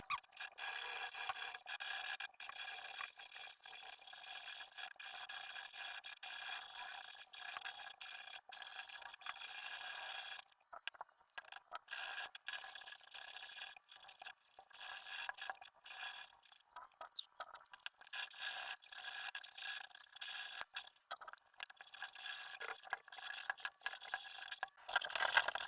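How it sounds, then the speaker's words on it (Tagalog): Sandpaper glued to a block rubs against the bottom edge of a door that scrapes the floor, a steady, faint, hissing scrape that carries on for the whole stretch, with a brief pause partway through. "start na tayo magliha."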